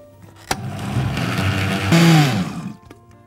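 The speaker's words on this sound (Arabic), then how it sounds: "وهنضرب الكلام ده كله في الخلاط." A kitchen blender mixing batter whirs up after a sharp click, running loud and steady for about two seconds before winding down.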